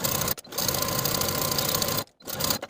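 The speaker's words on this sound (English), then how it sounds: "Sew the center back seam from the bottom to the neckline with a 1/4 inch seam allowance" A sewing machine stitches the center back seam of a bias-cut jacket in fast, steady whirring runs, loud and close, with two short pauses between bursts.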